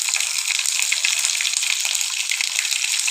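Curry leaves and chopped green chillies hiss and sizzle in hot oil in a pan, a steady, bright, close crackle with no pauses.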